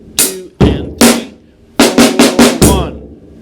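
A drum kit plays a beat on hi-hat and snare drum, a run of loud, bright, crashing hits in an uneven rhythm with short gaps between groups, close and clear with no talking.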